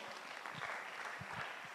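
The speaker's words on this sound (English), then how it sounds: "A round of applause for Professor" An audience applauds for a professor at an International Mother Language Day preconference session, a brief, faint patter of clapping heard from a distance with a few louder claps standing out.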